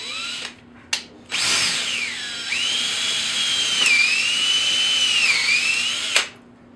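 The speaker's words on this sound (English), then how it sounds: "you can drill straight down and then back up." A power drill whirs steadily for several seconds, drilling straight down at a 90-degree angle, its pitch dipping and rising as it bites and eases, with short bursts starting and stopping at the beginning.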